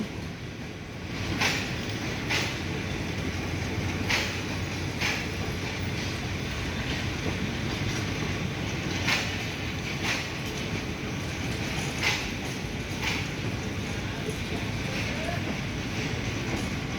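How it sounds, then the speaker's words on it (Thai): Locomotive GA 4537 hauling ordinary train 262 in the Bangkok area, a sustained low rumble of rolling stock with rhythmic wheel clicks over rail joints, heard from nearby with wind noise. "หัวรถจักรตามออกมาเลย GA 4537วันนี้ทำขบวนธรรมดาที่ 262"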